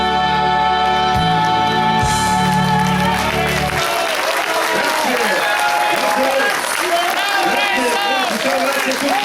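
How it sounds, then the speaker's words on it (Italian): Audience applause at a cruise festival show, starting as music fades and swelling into sustained, dense clapping and crowd noise that fills the room alone after the first few seconds. "Grande applauso."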